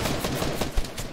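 Shotgun blasts in an arena video game, a dense run of loud, sharp broadband bursts in quick succession with one heavier boom near the end, and no talk.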